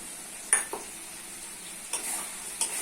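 Chicken and potatoes sautéing with spices in a pan, a steady sizzling hiss broken by a few sharp scrapes of a stirring spoon, close and clear with no talking.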